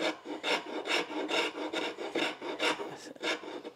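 A rasp filing wood in quick, even back-and-forth strokes, about two per second, close-up and distinct with no talking.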